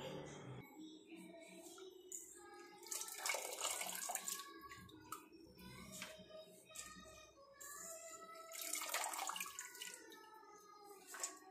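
Chopped raw papaya is washed under running tap water: a gushing, splashing flow comes in uneven surges as the pieces are handled close by, with tonal clatter mixed in.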